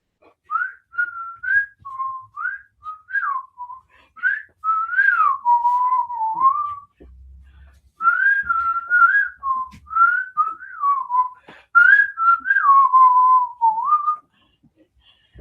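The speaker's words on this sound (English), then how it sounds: "his whistling was so crisp" A clear, crisp human whistling a melody in phrases, close and steady, with brief pauses between lines.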